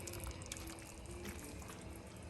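Starchy pasta water pours steadily into a pan of bolognese sauce, a continuous soft splashing trickle heard close up, with no talking.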